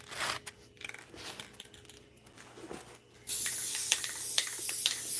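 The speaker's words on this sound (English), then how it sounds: "Let me spray this with clear coat." Aerosol clear coat sprayed onto a painting: a loud, steady close-up hiss bursts in about two-thirds of the way through and holds after quieter handling noises.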